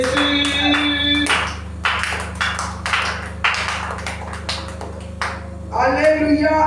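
A church congregation at a prayer service claps in rhythmic bursts of sharp hand claps, with voices and a sustained musical tone underneath.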